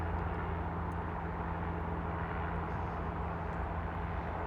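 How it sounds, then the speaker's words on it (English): Small helicopter flying overhead at a scenic viewpoint, a steady low droning rotor and engine hum that stays constant and moderately distant throughout, with no talk. "tiny wee helicopter just there"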